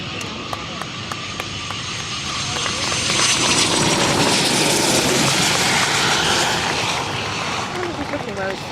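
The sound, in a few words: Eurofighter jet at Farnborough Airshow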